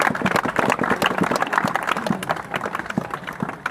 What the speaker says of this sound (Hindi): थोड़ा सा ताली बजा दो।